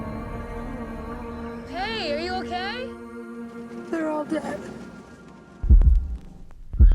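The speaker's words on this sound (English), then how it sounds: "the music shifts to the sound of heartbeats, with film grain sounds in the background" Low, thudding heartbeat pulses enter near the end of a horror film trailer, a couple of deep beats standing out after a stretch of sustained tonal music, with film grain sounds in the background.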